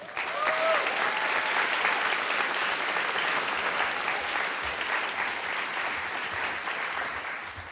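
A seated audience at a climate event claps steadily in welcome, dense and sustained applause filling the room, loud and even before slowly tapering at the end.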